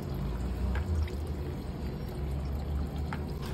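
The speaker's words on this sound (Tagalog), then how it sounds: "tuluan lang natin ng tubig para medyo totoo na parang pawis lang yung bumabasa sa kanya" Steady stream of water poured onto a waterproof running belt bag, a continuous close splashing trickle with a constant wash of noise and no talk.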